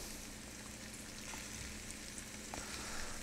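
Carrots, celery, onion and garlic cook together in a pan for paleo osso buco, giving a soft, even, continuous sizzle with faint crackles and no voices.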